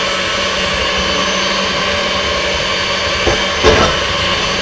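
Two egg yolks whipped to a froth with an electric mixer, giving a loud, steady whirring drone with a couple of brief knocks near the end.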